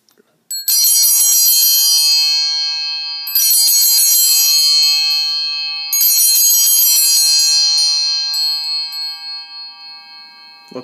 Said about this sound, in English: Let the bells continue to ring before you set them back down.